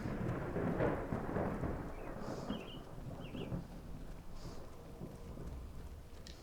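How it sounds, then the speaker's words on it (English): Thunder rolls during a rainstorm in Skyrim, a low rumbling swell early on that fades under steady rain hiss, with a few faint higher ambient tones, moderately quiet and without talk. "I like those thunder and lightning sounds"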